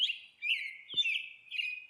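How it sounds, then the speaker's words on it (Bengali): Several birds call and chirp in a forest at Lulung, Simlipal, Odisha, with bright repeated tweets and trills in short overlapping phrases, fairly close and clear over a quiet background. "বরং নানা প্রজাতির পাখির ডাক"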